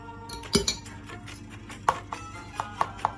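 A spoon clinks against a bowl while banana fritter batter sweetened with sugar is stirred. A few sharp metallic taps land at irregular intervals over a quiet background.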